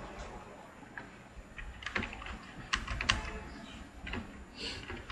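Typing on a computer keyboard, a few quiet key clicks in short irregular bursts, close by, over a low room hiss.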